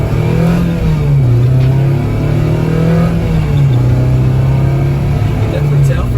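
Honda Civic with a K20A Euro Type R engine swap and 3-inch exhaust piping, its engine droning loud and close with a steady tone that dips and rises slightly in pitch throughout.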